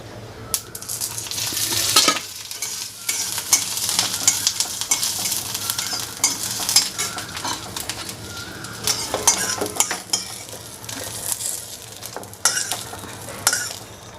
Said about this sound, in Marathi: आणि तमालपत्ते आणि जिरं थोडंसं भाजून घेते थोडंसं तेल घालायचं त्याच्यामध्ये